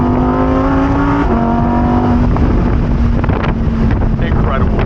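A Lamborghini Huracan Evo Spyder in Corsa mode, top down, roars loudly under heavy wind noise, its engine note rising in pitch through gears with a shift, over steady rushing air.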